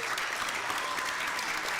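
Brief, dense applause fills a graduation ceremony hall, an even roar of many hands clapping at a steady moderate level.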